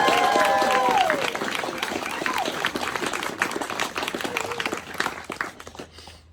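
Wedding guests applauding the bride after a best man's speech, a dense wash of clapping from a roomful of people that starts loud and gradually tapers off, with some vocal whoops early on.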